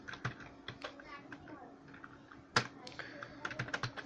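Someone types on a computer keyboard while coding CSS, giving quick irregular clicking keystrokes close by, clustered in short bursts with one louder tap midway, and a voice speaking softly underneath.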